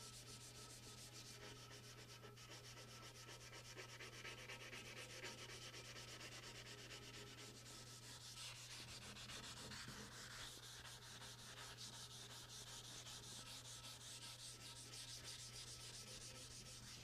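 Wet sanding with 320 grit wet/dry sandpaper lubricated by mineral spirits while restoring a Delta Unisaw, a quiet, steady rhythmic rubbing close by with a low constant hum underneath.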